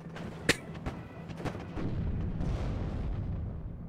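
Engineers firing in the WARNO battle game: a sharp close blast followed by several scattered muffled gunshots and booms over a low rumbling battlefield background.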